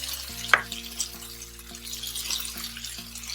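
Tomatoes cooked with salt in a pan give a soft, low sizzle with a few small clinks and a steady background hum. Nobody speaks.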